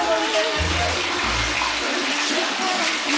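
Running water pours steadily into a bathtub during a bath, a continuous broad splashing rush with some low gurgling partway through.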